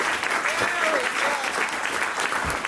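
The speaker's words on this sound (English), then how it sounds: "Let's give him a round of applause." Audience applause at Podfest 2016, a podcasting conference, fills the room with steady, dense clapping from a large crowd throughout, with a voice faintly audible over it.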